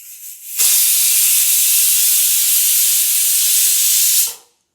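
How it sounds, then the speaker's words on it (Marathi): A pressure cooker vents steam with a loud, steady close hiss that starts abruptly, holds for several seconds, then cuts off, during cooking of spiced masala rice. "तर हे बघा आपल्या कुकरचे शिट्ट्या झालेले आहे."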